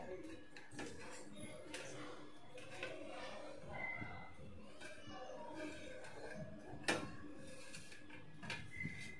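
Steamed multi-millet puttu tipped out of its steamer vessel, with quiet metallic clinks, scrapes and knocks of the pot scattered through a voice talking.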